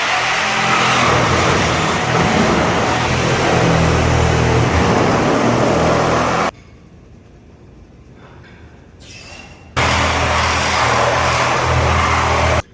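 A reciprocating saw fitted with Milwaukee Torch blades saws through a car floorboard, a loud, steady buzzing roar that stops abruptly for a few seconds and then resumes at full strength close by.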